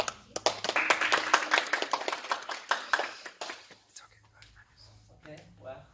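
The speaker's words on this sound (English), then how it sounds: "So big round of applause for Mr. Trần Chí" Audience clapping for a guest presenter at a student contest masterclass in Vietnam: dense, lively applause of many hands for about four seconds, then tapering off into scattered faint claps.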